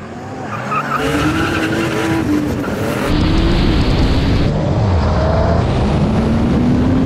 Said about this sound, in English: I can see Becky spinning the wheels up